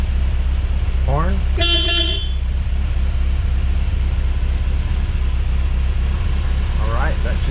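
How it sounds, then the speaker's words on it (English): Volkswagen Westfalia van horn giving one short honk over the steady drone of the idling engine, with brief talk just before and near the end. "Horn."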